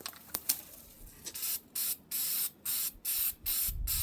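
Spray can coating applied around a homemade root cellar, heard as several short hissing bursts, rapid at first and then in a steady on-off rhythm of roughly half-second sprays, close and loud with no talk.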